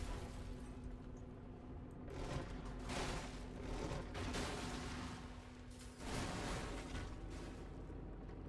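Sustained rapid Gatling gun fire from a mech in the video game Brigador, a dense continuous roar of rounds and impacts with brief breaks and a steady high whine.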